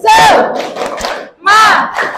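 A classroom group shouts a spirited chant in two loud bursts, voices rising together with a short pause between them. Any clapping is buried under the shouting.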